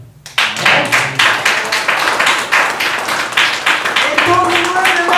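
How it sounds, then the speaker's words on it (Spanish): A church congregation claps in a steady rhythmic beat with voices mixed in, loud and close, continuing for several seconds. "¿Quién le da un aplauso al Señor?"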